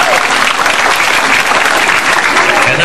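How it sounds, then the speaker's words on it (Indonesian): Sustained applause from an audience at a large outdoor Islamic preaching gathering in Kutabumi, Tangerang, a dense steady clapping that fills the whole stretch without letting up. "Tepuk tangan dulu buat mereka semua."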